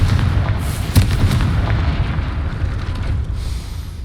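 A Confringo fire spell blasts in the video game Hogwarts Legacy: a loud, booming burst opens with heavy low rumble, then a rolling, crackling tail slowly fades over several seconds, with no voices.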